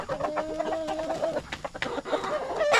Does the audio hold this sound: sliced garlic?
no